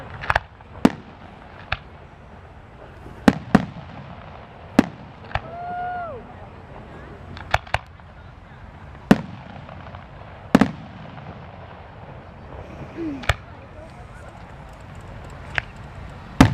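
Fireworks at the Lancaster Hot Air Balloon Fest pop and bang irregularly over sixteen seconds, sharp reports with echoing tails, while people talk faintly and a whistling rocket rises in between.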